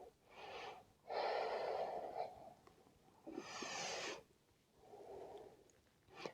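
Audible breathing during a gentle stretching and mobility routine, several close breaths with drawn inhales and airy exhales in an unhurried rhythm, fairly quiet, without speech.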